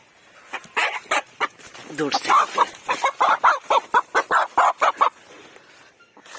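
Young roosters of about one and a half kilos, from a flock of ailing chickens, give a rapid run of loud, close clucks and crowing calls, with a voice mixed in.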